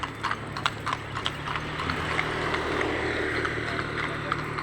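Horse hooves clip-clop in a quick, irregular rhythm over a loud, steady rumble of traffic or an engine in Valenzuela, Philippines, with voices faintly mixed in.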